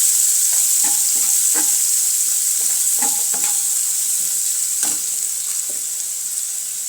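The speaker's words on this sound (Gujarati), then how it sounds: "એક લીલું કાપેલું મરચું થોડી ડુંગળી સરસ રીતે ગેસ ધીમો કરી લીધો છે અને સાંકળી લઈશું" Chopped green chilli and onion frying in oil over low gas for ragda patties, a steady bright sizzle under scattered soft stirring scrapes from a spoon, close and continuous.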